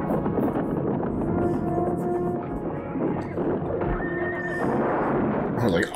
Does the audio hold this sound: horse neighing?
yes